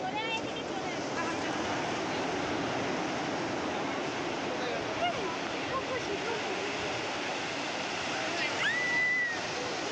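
Sea waves on Puri beach roll and wash in a continuous, loud broadband roar, surf rushing close by with a brief whistle-like tone near the end; no clear talk.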